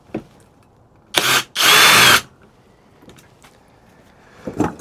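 Hobao MT8 Sport Plus 2 RC car with a suspect transmission gives two loud mechanical whirring bursts, a short one and then a longer grinding run, followed by faint clicks and a brief final whir.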